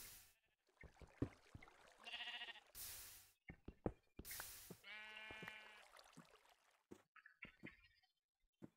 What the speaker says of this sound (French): Les moutons font un bruit d'enfer